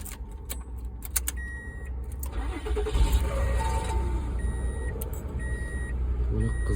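A Mazda MPV, under repair for an immobilizer fault, starts after a jingle of keys and a few dashboard chimes; the engine catches and settles into a steady, close idle while intermittent warning beeps continue.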